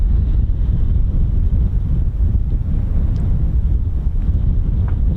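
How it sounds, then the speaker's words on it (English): Strong wind of about 25 knots buffets the microphone outdoors at the Holbeach air weapons range, a steady loud low rumble with gusty swells throughout and no voices. "Like I said, it is absolutely windy"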